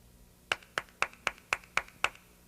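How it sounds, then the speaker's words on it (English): A single person clapping their hands together, seven sharp, evenly spaced claps in a steady rhythm, close and clear against a quiet background with no talk. "did you know that someone was clapping their hands together?"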